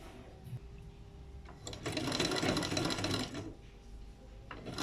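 A sewing machine stitches folded cloth in a short rapid burst of about a second and a half, close and fairly quiet, with faint handling noise before and after.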